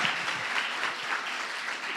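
A congregation at a church service bursts into brief, dense applause in praise, a steady wash of many hands clapping together for about two seconds.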